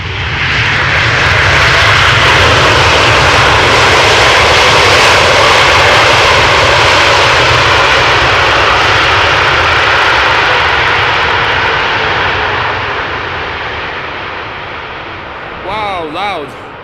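A Boeing 787 Dreamliner jet airliner at Amsterdam Schiphol Airport roars loudly as it passes close by, the engine noise swelling and then slowly fading, with a brief voice near the end.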